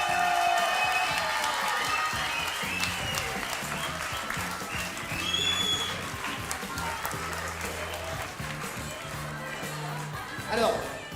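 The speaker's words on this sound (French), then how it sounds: "On vous applaudit." Audience applause at a children's battle event, a crowd clapping steadily in a hall with mixed talking over it and a brief louder burst near the end.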